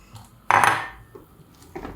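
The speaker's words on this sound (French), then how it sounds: "je vais renverser les oignons dans de l'huile" Chopped onions tipped into hot oil in a cooking pot for Senegalese tchep, giving a sudden loud sizzling rush that fades quickly to a quieter crackle, with a faint clink of the pot near the end.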